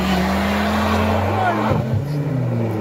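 A car launches hard at a track day, its engine roaring loud and steady with rising then dipping pitch as the tires smoke; close and continuous.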